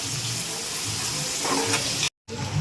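Okra and other vegetables fry in a pan after softened onion, giving a loud, close, steady sizzle with some stirring, broken by one very short gap of silence.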